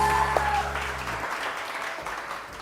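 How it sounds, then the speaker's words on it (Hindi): A studio audience on a talk show claps in a broad, steady wash of applause after a brief musical tone, fading slightly toward the end. "बहुत सारी तालियां इन सब लोगों के लिए।"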